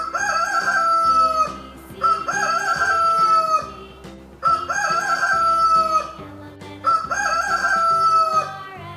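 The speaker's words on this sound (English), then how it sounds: "H for hen." Rooster crows and hen clucks repeat in four similar bursts over a loud, steady musical backing from a children's alphabet phonics song.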